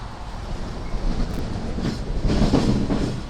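An LIRR train on the Port Jefferson Branch rolls past close by, with rumbling wheels and clickety-clack rail joints that build toward the end.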